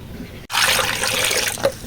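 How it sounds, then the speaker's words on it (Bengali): Cold water is poured over cooked hog plums in one sudden, close, steady rush that starts abruptly after a short quiet moment and flows for well over a second. "তাহলে এবার ঠান্ডা পানি দাও।"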